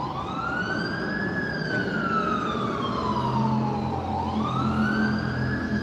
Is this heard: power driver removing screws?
no